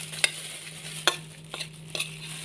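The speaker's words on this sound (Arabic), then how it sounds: "هنقلبه التوابل كده كلها مع بعضيها" A spoon stirs a mix of dry spices together for a chicken marinade, giving four short scraping strokes against the bowl at a steady pace, close and fairly quiet over a low background hum.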